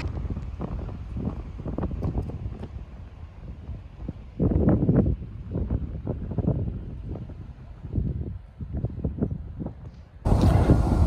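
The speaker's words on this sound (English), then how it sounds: "It's a bit windy." Blustery outdoor wind buffets the microphone in uneven low rumbling gusts that swell and fade, then a harsher gust near the end. No voices.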